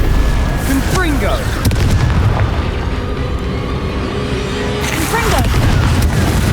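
The Confringo fire spell in Hogwarts Legacy erupts in heavy, rumbling booms. One burst lands early and another near the end, over a constant roar of game combat.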